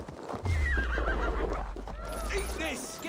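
A horse in Assassin's Creed Valhalla neighs and whinnies loudly and close, with clip-clopping hooves and a low rumbling underneath, while game voices talk over it.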